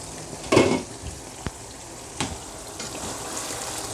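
Chicken karahi simmering in a pan as its liquid cooks down, giving a steady soft sizzle with a louder burst of frying and a few sharp clinks of stirring near the start; no one speaks.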